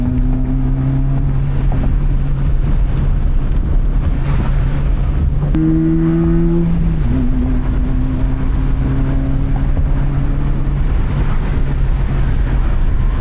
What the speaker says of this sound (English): But we'll do a little bit of testing on this test drive.